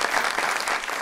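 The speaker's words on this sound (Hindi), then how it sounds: "इसी बात पर तालियां।" Studio audience applause on a talk show, a dense burst of clapping filling the whole short moment at steady loudness.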